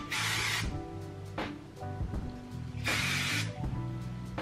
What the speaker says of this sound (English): The hairspray that I'm gonna be using is this one, Bad Head.